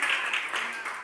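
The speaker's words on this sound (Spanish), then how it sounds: "Den un aplauso fuerte y felicidades." Applause from a church congregation after a blessing, a brief burst of clapping that sounds somewhat distant, with voices faintly underneath.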